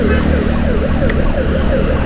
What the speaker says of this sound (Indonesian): Ambulan ada di depan kita.